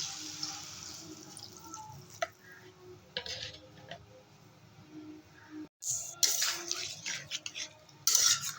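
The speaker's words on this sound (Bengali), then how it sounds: "এবারে দিয়ে দেবো সামান্য একটু জল" A little water poured into a pan of cooking broccoli, a faint trickle under light clinks of utensils, then a sharper hiss and bursts of sizzling as the water hits the hot pan, close by with no talking.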